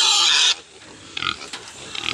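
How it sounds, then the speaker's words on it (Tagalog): Several sows grunting on a Philippine livestock farm in the morning, a loud burst of dense grunting at first, then quieter scattered grunts and snorts from nearby pigs. "Ang dami ng mama pig, oh."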